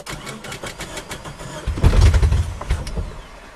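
Suzuki Tracker engine started without keys: a cranking, whirring buildup leads into a louder, rough engine catch near the middle, then settles into an uneven running rumble, fairly close and alone.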